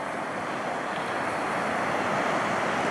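Waves breaking and washing along the Norwegian coast, a steady, dense roar of surf with wind noise on the microphone, continuous and fairly loud throughout, no voices.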